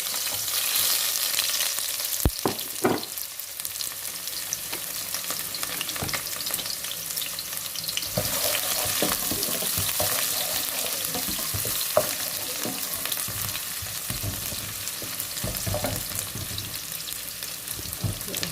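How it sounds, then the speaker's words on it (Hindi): Sliced onions browning in about four spoons of oil in a pan, a dense continuous sizzle with occasional spatula scrapes and taps, close and even throughout, no talking. "पहले इस प्याज को हम ब्राउन कर लेते हैं"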